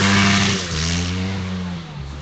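Dirt motorcycles on a sand rally special stage, the Sandblast 2013 sand trap, accelerate hard in a loud, close engine roar whose pitch holds and shifts as the bikes take off, fading slightly toward the end.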